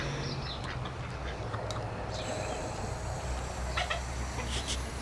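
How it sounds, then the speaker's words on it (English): Free-grazing chickens cluck faintly and intermittently in the distance over a soft outdoor background hiss. "And the chickens are down there grazing."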